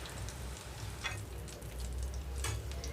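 Bitter gourd pieces fry in a pan with a steady, close sizzle and a few light crackles, and no one speaks.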